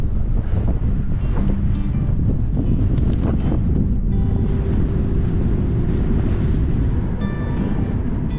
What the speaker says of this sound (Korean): 여기도 바람이 많이 부네.